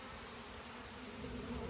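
Feral honey bees, being rescued from a giant cactus, buzz in a dense, continuous drone up close, steady and faint throughout the short stretch with no talking.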